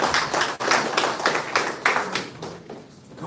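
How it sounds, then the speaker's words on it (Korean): Audience applause and scattered clapping fill a hall at a political forum, a steady crowd burst that thins toward the end. "박수 한번 보내주세요."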